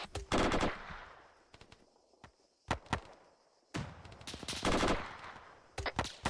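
Sustained automatic machine-gun bursts from a military squad in Arma 3, loud and close, rattling in long volleys separated by short pauses, with scattered single cracks between them.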